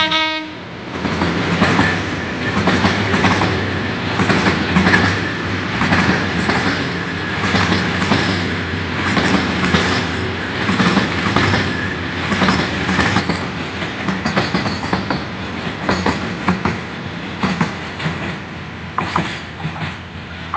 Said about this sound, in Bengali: দুটো ট্রেন পাশাপাশি দাঁড়িয়ে, একটা চলে যাচ্ছে আর একটা যাত্রী উঠাচ্ছে এয়ারপোর্ট স্টেশন।